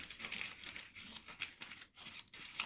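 Origami paper for a dragon model is unfolded from its pre-creased form, producing continuous close, soft crinkling and rustling with small irregular crackles.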